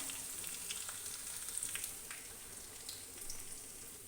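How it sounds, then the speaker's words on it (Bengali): Garlic frying lightly in a pan, a faint, continuous crackling sizzle with small scattered pops and occasional stirring scrapes, steady throughout. "ভালোভাবে রসুনটা হালকা একটু ভেজে নেব"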